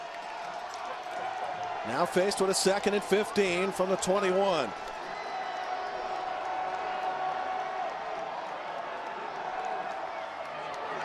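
A football crowd at Dwight Perry Stadium for Toledo at Bowling Green roars in a broad, steady swell, with a burst of rhythmic clapping, band or horn notes early on, under a play-by-play commentator's voice.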